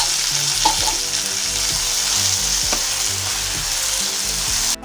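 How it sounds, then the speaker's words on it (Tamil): Finely chopped tomatoes, about three medium ones, sauté with ginger and garlic in a hot pan, giving a steady, close sizzle with occasional stirring scrapes and clinks throughout, with no talking. "இப்போ இதை நல்லா வதக்குவோம்."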